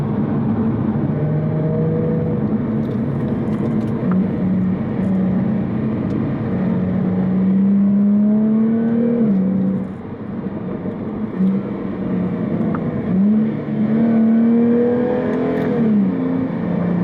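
A Jaguar F-Type S Coupe engine drones steadily on the road, its pitch climbing and falling through gear changes as the car accelerates, loud and continuous with tyre and wind noise beneath.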